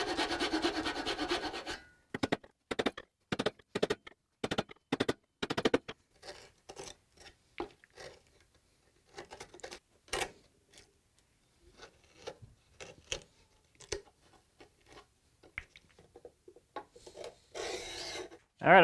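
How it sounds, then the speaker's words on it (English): Hand sanding on the inside of a wooden wall-hanging router bit cabinet, heard as a quick series of rough rasping strokes with short pauses between them, close and moderately loud. "I finished sanding the inside of this thing"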